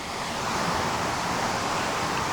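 The Runchet River waterfall in Dharche, Gorkha, Nepal, gives a constant, dense, loud roar of rushing water with no break, heard close and alone.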